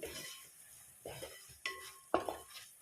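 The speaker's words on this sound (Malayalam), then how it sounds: "ഇനി ഇതിൻ്റെ റോ ടേസ്റ്റ് മാറുന്നത് വരെ നന്നായിട്ടൊന്ന് മിക്സ് ചെയ്ത് കൊടുക്കാം." Kashmiri chili powder is stirred in a pan for a Kerala-style fish curry, with soft scraping and a few sharp metallic clinks of a spoon against the pan, quiet and intermittent.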